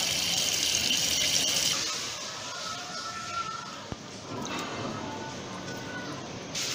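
Tap water runs steadily from an opened faucet while its removed, leaking tap head is rinsed clean, a close continuous gush that softens and surges again with a brief clink.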